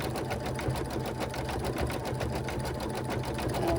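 An embroidery machine stitches a SpongeBob design onto a towel, giving a steady, rapid mechanical chatter with an even rhythm that is close and continuous throughout, with no talk.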